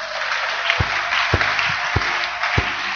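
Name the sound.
church congregation applauding loudly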